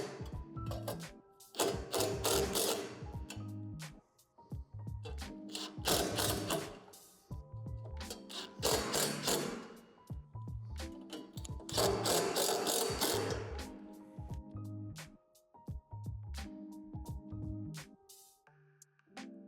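A hand ratchet clicks in bursts of rapid pawl ticks while tightening the hardware on the cover plate of a Lifetime 54-inch portable Power Lift basketball system, with pauses between strokes and a close, dry mechanical sound.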